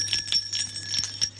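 Small protection bells on a runic craft charm jingling softly in repeated light tinkles, close and delicate, with no talk.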